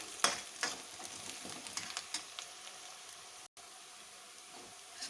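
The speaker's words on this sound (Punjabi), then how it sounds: "ਪਿਆਜ਼ ਹੁਣ ਭੁੰਨਿਆ ਗਿਆ ਏ ਬਸ ਹਲਕੇ 골ਡਨ ਜੇ ਕਲਰ ਦਾ ਇਹਨੂੰ ਭੁੰਨਾਂਗੇ" Onions with fine ginger-garlic paste fry in a pan, a soft continuous sizzle broken by a few sharp spoon scrapes and stirs near the start, with a brief dropout partway through.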